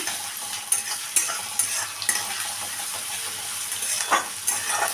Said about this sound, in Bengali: এবারে আবারও এটাকে কষিয়ে নিচ্ছি।